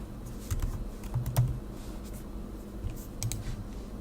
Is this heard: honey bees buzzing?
no